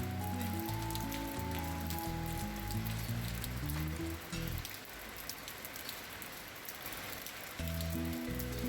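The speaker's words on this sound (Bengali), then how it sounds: "এই তো বৃষ্টি শুরু হয়ে গেছে।" Rain falls outdoors in a steady, faint patter that stays even throughout, partly under low, sustained musical tones that drop away briefly in the middle before returning.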